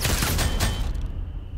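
Dense, loud gunfire from the World War II game Classified: France '44 crackles in rapid overlapping bursts, then cuts off into a fading tail.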